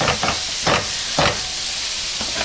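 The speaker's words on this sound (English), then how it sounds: "I did go ahead and add a little bit of olive oil to this. I'm going to be adding my tomatoes." Tomatoes drop into hot olive oil in a pan while baked ziti is being made, giving a few short sizzling bursts with stirring scrapes over a steady hiss.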